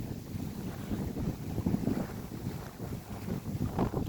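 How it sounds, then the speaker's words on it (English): Strong wind blows across an outdoor coastal walk, buffeting the microphone with a continuous gusty rumble that rises and falls in loudness. "It is very windy"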